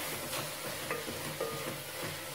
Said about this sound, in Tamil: இது போட்டு நல்லா ஒரு வதக்கு வதக்கிட்டு